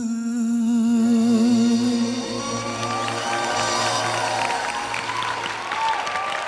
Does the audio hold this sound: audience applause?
yes